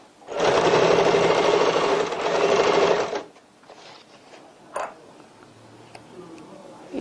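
Sewing machine stitching a seam on a tote bag with a 1 cm seam allowance, running loud and steady for about three seconds, then stopping, followed by quiet handling sounds and a faint low hum.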